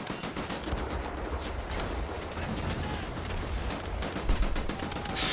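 Gunfire and explosions in the shooter game Wolfenstein: The New Order, dense rapid bursts of shots and blasts crackling continuously, loud and close.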